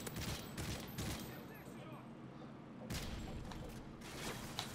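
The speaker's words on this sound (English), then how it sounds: "Oh, somebody's shooting at me." Gunfire in a multiplayer shooter match, with dense overlapping bursts of rapid shots and volleys crackling through most of the stretch, one lull in the middle before another volley erupts and continues.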